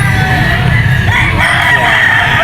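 A yellow-legged rooster at a pet market gives a loud, close crow over a busy background of other fowl and crowd noise.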